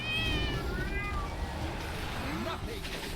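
A cat meows several times in the World of Warcraft game during a raid in Castle Nathria. The rising and falling calls come early and clear, over ongoing game noise, with a voice talking.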